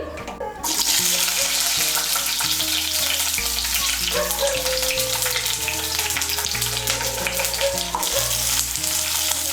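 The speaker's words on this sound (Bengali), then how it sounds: "তেলটা গরম হলে প্রথমে এর মধ্যে আমি পেঁয়াজের পাপড়িগুলো ভেজে নেব" Onion petals dropped into hot white oil in a wok, a loud, sudden sizzle that erupts and continues as a dense, crackling hiss, close up with no speech.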